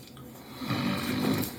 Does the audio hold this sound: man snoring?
yes